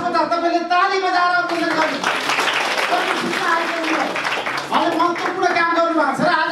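Audience applause for the chief guest at a Nepali public event on the right to information, a steady dense clapping wash in the middle stretch, with a voice talking over it at the start and end.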